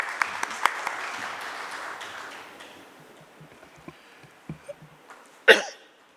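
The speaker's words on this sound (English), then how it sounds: "Please round of applause for him." Applause from a conference audience at a real estate and REITs event, a broad clapping wash that starts fairly loud, thins out over several seconds into scattered claps, then ends with one sharp louder bump.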